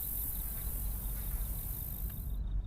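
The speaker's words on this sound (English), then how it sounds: "Luckily there were a few crickets still singing" Faint, steady cricket chirring hangs high over a low rumbling background, a thin continuous trill that drops out near the end.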